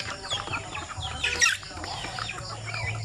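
Sampin native chickens on a Philippine farm cluck in short, soft, repeated calls, fairly near but quiet, with a brief louder squawk midway over low background noise.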